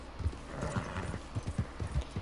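Horse hooves clip-clop in a steady walking rhythm in Red Dead Redemption 2, each step a soft, muffled thud on dirt, set against a faint outdoor ambience.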